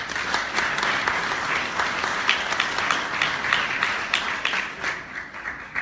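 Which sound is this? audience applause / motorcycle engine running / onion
audience applause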